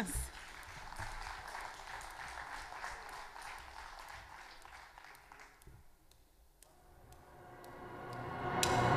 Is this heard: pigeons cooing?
no